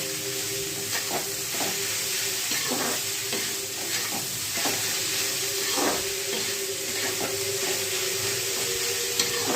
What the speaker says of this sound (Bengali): এবারে শাকটাকে হালকা ভাজা ভাজা করে নামিয়ে নেব।